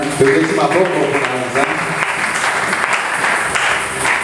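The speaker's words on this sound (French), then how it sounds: "Applaudissez pour le Seigneur." Church congregation clapping during a French-language worship service, dense steady applause filling the space with voices and a sung or called line rising above it partway through.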